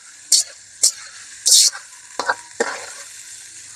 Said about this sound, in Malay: Kita kacau sampai dia masak guys